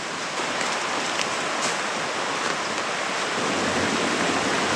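Creek water flows beside an old railroad bed in the Appalachian Mountains, a steady, full broadband rush close by with no pauses and no talking.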